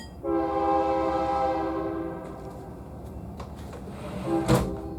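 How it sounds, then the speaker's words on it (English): A train passes at a distance, its horn sounding a long, steady blast that fades over a couple of seconds, followed by rumbling rail noise and a brief louder clatter near the end. "There's a train going."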